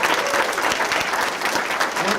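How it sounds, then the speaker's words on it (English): Sustained applause from a crowd at a mayor's press conference for a summer youth employment initiative, a dense steady patter of many hands clapping throughout, fairly loud and close. "give a round of applause again"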